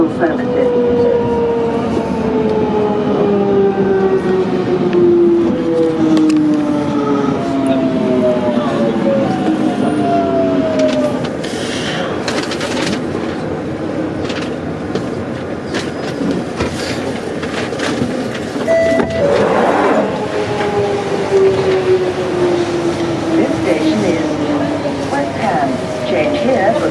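Jubilee line underground train running between Stanmore and Stratford, a steady loud rumble with rising and falling motor whine and a brief squeal, continuous throughout.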